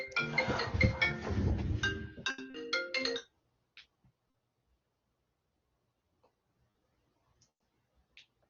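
A new mobile phone rings with a bright melodic ringtone for about three seconds and then stops abruptly, leaving near silence broken by a few faint ticks and clicks.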